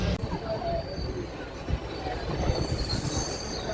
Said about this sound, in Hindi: 2 मिनट रुकने के बाद यहाँ से निकल गई हमारी कंचनजंगा एक्सप्रेस